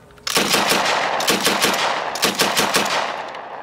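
A machine gun fires during a military fortification demonstration at Lichkov, delivering a loud, rapid burst of about ten rounds that rings out with sharp repeated cracks and echoing tails, then fades.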